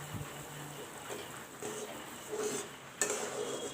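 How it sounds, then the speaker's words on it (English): Suji upma being stirred in a pan with boiling water, onions, tomatoes and curry leaves, giving soft scraping and bubbling sizzle with a few light utensil clinks, close and moderately quiet. "and keep on stirring it."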